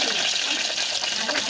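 Tomatoes hitting hot oil with curry leaves and turmeric, a dense steady sizzle at close range throughout.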